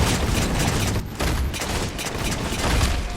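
Rapid gunfire from the Magnum pistol in the Halo 4 video game: a dense, loud burst of repeated shots with booming impacts, packed closely together and sounding continuously across the whole stretch.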